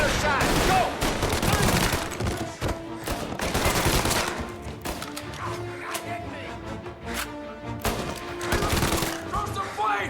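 Heavy gunfire in the video game Mafia: Definitive Edition, volleys of shots and bursts crackling loudly in waves throughout, with voices shouting over the shooting.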